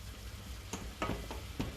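Leeks being stirred in a pan over medium-high heat, giving a few soft scraping strokes over a faint sizzle, close and quiet.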